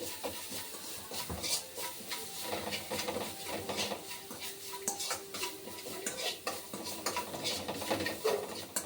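Amla rice dish being mixed with a spoon after sesame powder is added, giving continuous close scraping and clinking of utensil against the pot with soft sizzling underneath, no talking.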